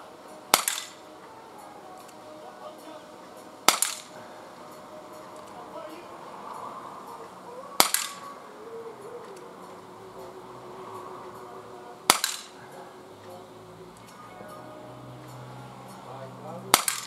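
Five sharp, close shots from a Bersa BP9CC blowback BB pistol fired outdoors, spaced about four seconds apart, each a crisp snap with a quick metallic decay, while someone speaks quietly in between.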